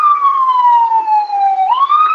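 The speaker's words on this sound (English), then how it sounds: "One day that siren's going to be for you." A police siren wails in one loud, close sweep, its pitch gliding slowly down and then rising again, with no other sound around it.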